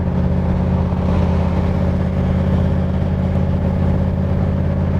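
A 1965 Shelby Cobra replica, Superformance MKIII, cruising down the road, its engine a loud steady drone with strong low rumble and even road noise, no speech over it.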